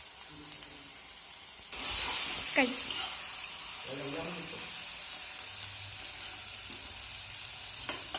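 Onions sizzling and frying golden in a pan for a green egg curry, a steady close hiss with occasional stirring clatter and brief bursts of spitting oil.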